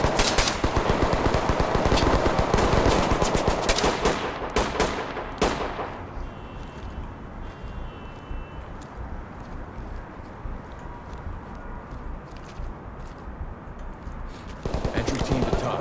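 Gunfire in a police tactical shooter game, with heavy rapid bursts of shots at first that thin into sparse distant pops and quieter ambience, then swell again at the end.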